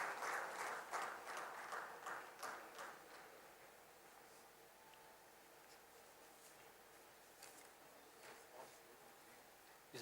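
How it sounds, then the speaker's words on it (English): Applause from an audience welcoming two dignitaries onto the stage at the PACC 2025 inauguration: a few seconds of moderate clapping at the start that quickly fades, with only faint scattered claps later over a quiet hall. "With a big round of applause, let's have both the dignitaries on the stage."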